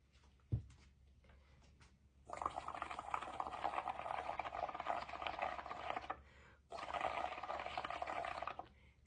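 Ceramic bubble glaze being stirred with added water and Dawn dish soap, a steady close wet churning and bubbling that runs for several seconds, pauses briefly, then resumes.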